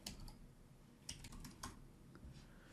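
Typing on a computer keyboard while writing comments in a code editor, quiet scattered key clicks in short bursts, close and soft with no talk.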